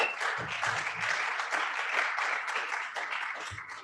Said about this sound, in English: Everybody, round of applause for Cassius Cam